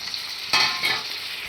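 Shrimp sizzles in hot oil, a steady crackling hiss with a couple of brief louder bursts as it's stirred.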